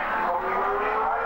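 A Mazda RX-7 race car, driven by Rick Matheson, pulls away at a race start at Lady Wigram, a loud, rising engine roar heard close and continuous.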